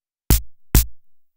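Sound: dry snare drum hit

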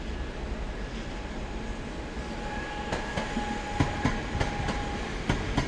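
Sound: train departing Katowice station for Gliwice

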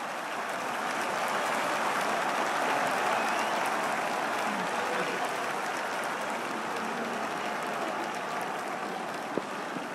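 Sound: crowd applauding in Don Bradman Cricket 14 video game

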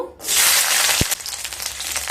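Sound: whole garlic bulb sizzling in hot mustard oil

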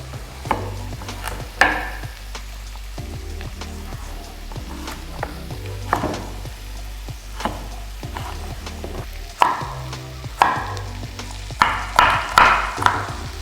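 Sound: diced pumpkin frying and being stirred in a pot

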